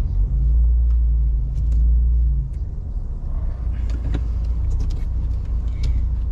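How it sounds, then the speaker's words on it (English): A Ford Raptor pickup truck rumbles close by in traffic, a steady low engine drone that is heavy at first and eases slightly partway through, with faint scattered clicks and road noise above it and no talking. "there's a guy right next to me with another raptor"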